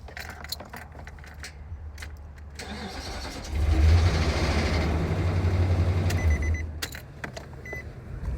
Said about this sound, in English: It started, it clicked, and then it started.